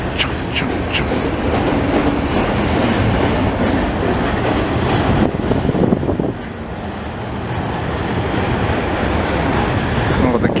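A CN freight train with switcher locomotives passes over Charlevoix Street in Montreal, loud and close, with continuous rumbling and clattering of railcars, and traffic noise and a voice in the background.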